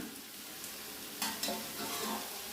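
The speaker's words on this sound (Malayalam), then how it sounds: "ഇനി നമുക്ക് വേണ്ടത് ഈ സോയാബീൻ ഇട്ട് കൊടുക്കുകയാണ്" Soybeans tipped into a pan of frying masala with green chillies, then stirred: a steady close sizzle broken by a few scraping clatters of the spoon, with no talking.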